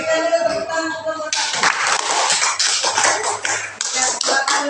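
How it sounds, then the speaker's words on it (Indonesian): Students in a classroom clapping for the first group after its presentation: dense, close applause of many hands that swells after the first second and continues to the end. "Berikan dulu tepuk tangan untuk kelompok"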